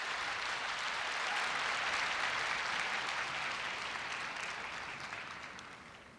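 Sustained applause from a large audience fills a university entrance ceremony hall, a dense steady wash of clapping that holds for several seconds and then gradually tapers off.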